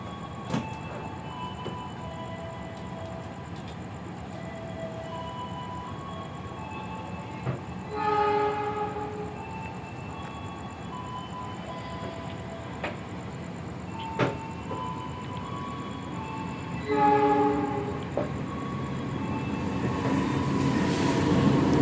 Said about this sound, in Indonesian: Dan ini dia kereta api Mutiara Selatan.